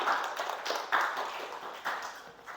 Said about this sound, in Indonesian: Oke, yuk kita kasih tepuk tangan.